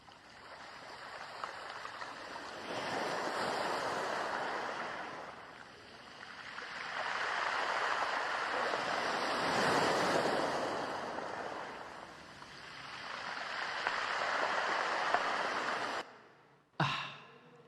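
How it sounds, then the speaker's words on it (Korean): Waves washing over a pebble beach of rounded stones, three broad surges swelling and receding in slow rhythm, with a rushing wash and faint rattling of pebbles, loud and close, ending in a brief sharp knock. "일반 바다에서 들을 수 없는 파도 소리를 이 몽돌 해수욕장에서 들을 수 있다는 걸 여러분들 아십니까?"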